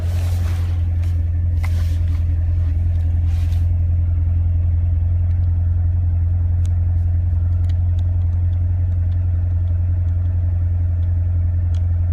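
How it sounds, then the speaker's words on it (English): A Corvette Stingray engine runs close by with a steady, deep rumble for about twelve seconds, holding mostly even with little sign of sharp revving. Only faint background sounds accompany it. "let me just give you a few revs"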